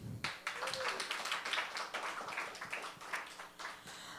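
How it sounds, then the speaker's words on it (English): An open mic crowd gives a short round of applause, a patchy spread of claps from a small audience that fades after about four seconds. "Another round of applause for Adam."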